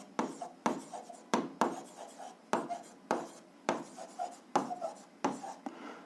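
Pen or pencil writing out an algebra solution on paper, a steady series of scratchy, close strokes in short repeated bursts with brief gaps between them.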